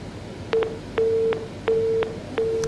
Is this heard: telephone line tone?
yes